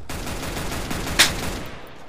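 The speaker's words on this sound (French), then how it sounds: "il s'est tué avec sa propre grenade" A grenade blast goes off among rapid bursts of gunfire in a first-person shooter match, dense and loud, with one sharp crack standing out partway through.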